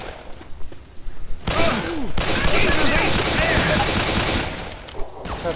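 Rapid automatic gunfire from the zombie shooter video game Left 4 Dead 2 rattles in a dense, loud burst lasting several seconds, following a short quieter lead-in, with no talk over it.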